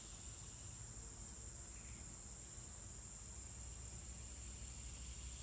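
Cicadas buzz outdoors in a steady, unbroken high drone, faint and distant, over a low rumble of background noise with no talk.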